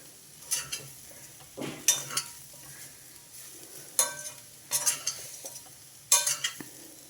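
Sliced bitter gourd coated in chili powder is stirred in a frying pan, a spoon scraping and tossing in short repeated bursts over a soft, steady sizzle, close and fairly quiet.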